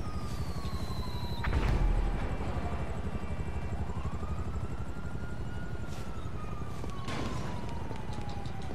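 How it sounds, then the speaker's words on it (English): A helicopter in GTA 5 whirs steadily throughout, its pitch slowly rising and falling, with a couple of brief sharp impacts breaking in. "I'm gonna go in a helicopter."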